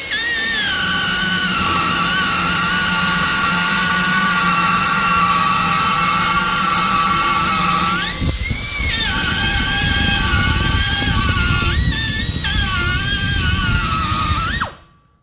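A plug-in power tool with carbide inserts cuts along a metal edge, giving a loud, continuous high-pitched whine with a few sharper surges in the cut before it stops abruptly at the end.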